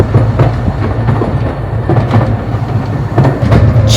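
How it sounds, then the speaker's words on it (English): A small ride-on train at Blenheim Palace rolls along with loud, close clickety-clack of wheels over rail joints in a steady repeating rhythm, plus rumble and rattle of the carriages, no talk. "I'm on the train! This is brilliant!"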